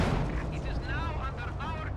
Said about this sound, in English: You can see the tremendous rate of fire there of the KV2.